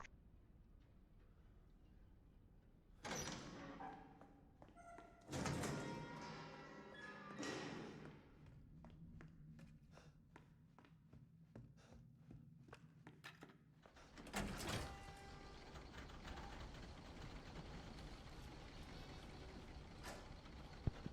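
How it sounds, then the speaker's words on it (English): A door swinging open in the survival horror video game Resident Evil 7, with heavy thuds, creaks and knocks across a quiet, low-level game ambience, the loudest bumps landing early and midway, close and alone without talk. "it was a little weird that that door just swung open"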